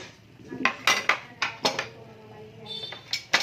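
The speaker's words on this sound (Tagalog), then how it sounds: "Maghugas ako og plato guys." Dishes and plates being washed, with a close, uneven run of bright clinks and clatters as they knock together, some ringing briefly, over a faint background hiss.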